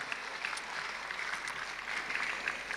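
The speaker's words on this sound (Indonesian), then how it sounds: "Boleh sekali lagi tepuk tangannya yang paling meriah buat kita semua malam ini" A crowd applauds at the night-time closing ceremony of the Ranup Aceh & Meurunoe Art Fest 2026, producing faint, distant, continuous clapping with a soft hiss of many hands.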